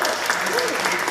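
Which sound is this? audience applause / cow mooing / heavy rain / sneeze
audience applause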